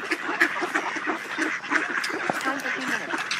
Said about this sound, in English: Oh, they're pretty ducks.